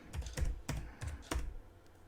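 Typing on a QWERTY computer keyboard, about six distinct close key taps in an irregular rhythm, then a faint final click, no voices.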